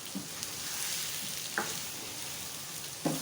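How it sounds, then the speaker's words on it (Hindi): Potatoes frying for aloo bhujia crackle in a steady, close sizzle in a pan, with a few sharp knocks of a spoon against the pan spaced through it. "आलू की भुनाई करें अच्छी तरह से"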